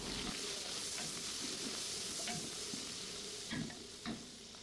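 Capsicum and onions fry in oil with whole spices in a pot, giving a steady sizzling hiss with occasional louder crackles and stirring scrapes, close and continuous.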